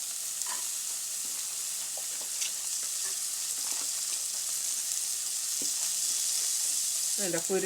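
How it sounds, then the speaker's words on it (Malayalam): Chopped jackfruit seeds with turmeric frying in a pan for a thoran with mulberry leaves, a soft steady hiss of sizzling oil with occasional light scraping and stirring clicks, close and fairly quiet. "അതിലേക്ക് ഞാനിതാ ഈ കുരുവാണ് അരിഞ്ഞ് വെച്ച് കൊടുക്കുന്നത് കേട്ടോ. കുരു നമുക്ക് ഇട്ട് കൊടുക്കാം."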